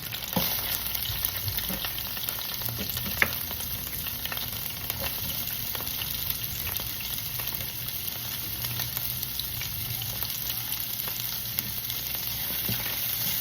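Onion frying in hot oil in a pan for chicken adobo, a steady crackling sizzle that runs evenly throughout with occasional small pops and faint stirring, no voices.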